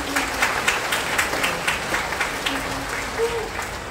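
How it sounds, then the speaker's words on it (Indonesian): An audience applauds a church choir after its performance, sustained clapping from many hands in a hall, steady and fairly loud, with some voices mixed in. "Kita beri tepuk tangan."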